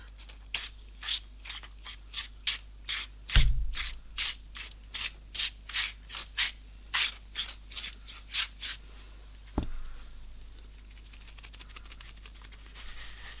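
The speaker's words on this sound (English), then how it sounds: "Just going to work it in with my fingers first." Fabric on a pair of Gucci kitten heels is rubbed with fingers to work in interior cleaner, giving steady rhythmic scrubbing strokes, about twenty close swishes in a row, with a single knock partway through and then quiet.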